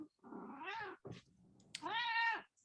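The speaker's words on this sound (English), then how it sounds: "Sorry, my cat." A domestic cat meows twice, each call long and drawn-out, separated by a short pause, fairly close and loud against a quiet room background during a parks subcommittee meeting.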